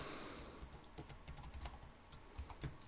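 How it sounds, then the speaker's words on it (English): Fingers type words on a computer keyboard at close range, producing quiet, irregular clusters of key clicks with short pauses between bursts. "I'm going to type some words down here"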